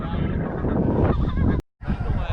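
Goose honks during an Alberta waterfowl hunt, with a blue goose among the birds, calling steadily and fairly loud across the field before a sharp gunshot-like cutoff, followed by more honking.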